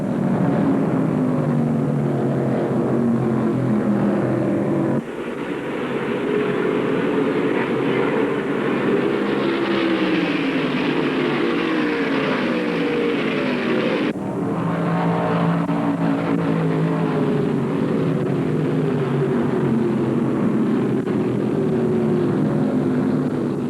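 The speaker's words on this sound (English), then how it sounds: "he has the engine in that Mercury wound out all the way, trying to catch Richard" Engines of 1975 NASCAR stock cars, including a Mercury wound out flat, racing at Atlanta, a loud sustained roar that shifts pitch as cars pass, with no talk over it.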